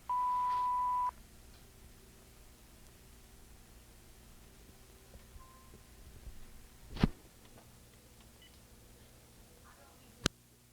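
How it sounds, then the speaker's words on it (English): A single steady electronic answering machine beep about a second long opens the clip, followed by faint hiss and a couple of soft clicks. "Please leave your name and phone number after the beep."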